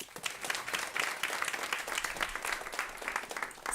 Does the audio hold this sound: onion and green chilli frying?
no